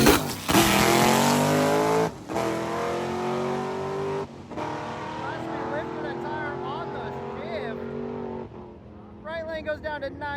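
Vehicle engine noise at a drag strip, roaring loud with rising revs, alongside a Chevy truck; a commentator talks over it throughout.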